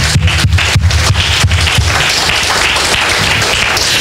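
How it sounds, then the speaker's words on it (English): Church congregation clapping hands to the Lord, a steady run of loud, close rhythmic claps at first that blur into sustained, dense applause. "Clap your hands to the Lord"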